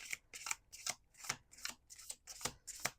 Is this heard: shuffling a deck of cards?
yes